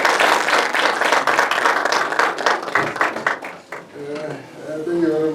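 Audience applause greets an honorable guest called to the stage at a sports, arts and culture event, dense steady clapping filling the room for several seconds before fading as a voice begins speaking.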